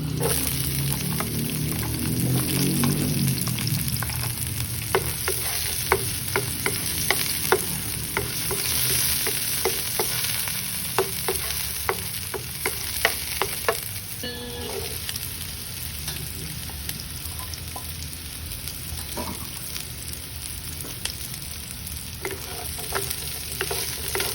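Onion sizzles steadily in a hot pan for ginisang sayote with kangkong and pork, with a constant frying hiss broken by sharp clicks and scrapes of stirring.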